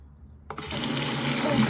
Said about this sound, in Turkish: Şimdi nasıl suyu açıp yıkıyorsun fırçanı onu da görelim.